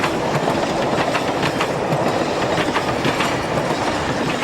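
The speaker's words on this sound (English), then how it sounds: "this is very much a railway hotspot, with services passing through on the Lisbon to Oporto main line" A train passing through Entroncamento junction on the Lisbon to Oporto main line in Portugal, a loud, close, continuous rumble with rhythmic wheel clatter over the rails throughout.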